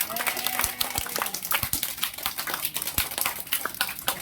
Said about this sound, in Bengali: সব যত সার আছে সবার লাগে একটা হাততালি।